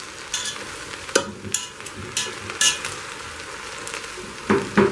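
Onions for spaghetti fry in a pan, giving a steady soft sizzle broken by several scraping stirs and light utensil clinks, with no talking.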